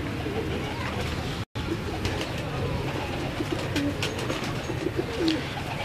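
Pigeons coo repeatedly on a home rooftop, soft throaty calls rising over steady outdoor background noise, with a brief dropout early on.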